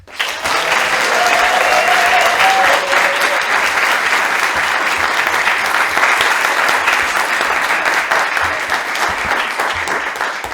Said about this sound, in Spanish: Así que, por favor, pido un aplauso para él.